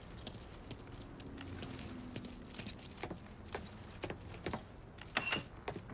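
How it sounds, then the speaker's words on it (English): Keys jingle faintly in Mafia III on Xbox One X, light irregular metallic clinks scattered through the clip over a quiet low hum of background ambience. "Hey, man, grab those keys."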